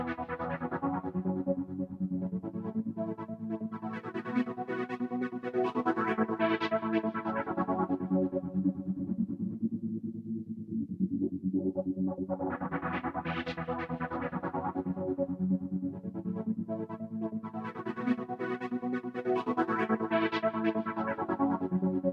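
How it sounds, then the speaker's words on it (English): Synthesizer chords fattened by a stereo detune effect, thick, wide and sustained, swelling and thinning in long phrases, playing alone at moderate volume. "So, this is Stereo Detune."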